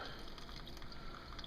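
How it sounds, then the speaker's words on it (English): Excess cooking water poured off a pot of cooked corn, a steady rushing gush of liquid that runs unbroken and fairly close, with no voices over it. "pour off the extra water to the corn."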